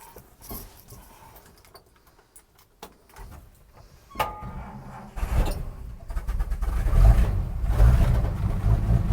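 A 1953 Studebaker 2R5 truck engine cranks and fires, building from scattered mechanical knocks into a loud, low rumbling run that swells and revs in the second half, with birds cooing faintly at the start.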